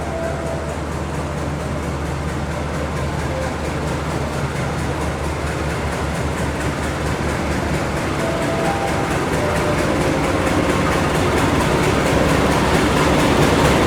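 Joglo Semarkerto passenger train, hauled by a diesel locomotive, rolls into Semarang Tawang station at night with a steady low rumble and rattling wheels, loud and continuous, growing slightly louder toward the end.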